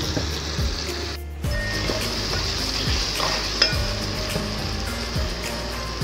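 Masala for Hyderabadi stuffed achari bhindi frying in a pan, a steady close sizzle broken by repeated scraping strokes of a stirring spoon and a brief clink, with no talking.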